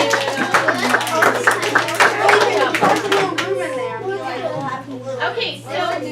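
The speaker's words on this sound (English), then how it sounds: "let's clap for this group." Fifth-grade class clapping for a group of students after an igloo presentation, a brief burst of hand claps in the first few seconds, mixed with children's chatter and voices continuing over it.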